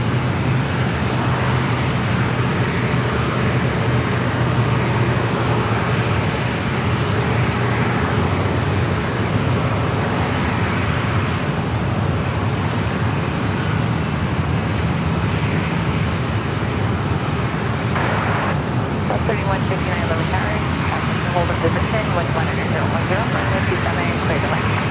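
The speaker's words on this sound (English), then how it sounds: "A lot more flights coming on down for takeoff." Aircraft near San Diego airport, a continuous loud jet engine roar filling the whole stretch with a brief rise in noise toward the end, under distant indistinct talk.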